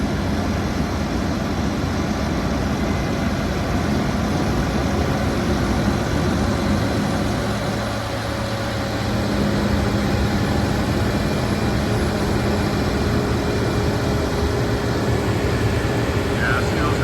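A Fendt Ideal 9 combine harvester of about 650 horsepower runs in a field. It gives a loud, steady engine and machinery roar that holds throughout with a broad mechanical hum and faint tonal whine, and no talk is heard.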